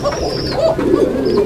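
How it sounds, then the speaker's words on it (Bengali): A Basiraj Koka pigeon coos close by, a soft, thin, fluting call rising and falling in a couple of short phrases, with no other sounds around it. "ইভেন এদের ডাকটাও কিন্তু অনেক চিকন বাঁশির সুরে ডাকে, অনেক সুন্দর ডাক দেখেন"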